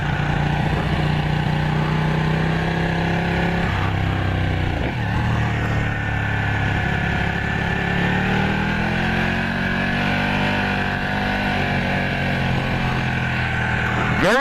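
A 232-horsepower motorcycle weighing about 420 pounds ridden hard, its engine droning loud and steady throughout with shifting pitch as it accelerates, plus heavy wind rush and a brief sharp noise at the very end.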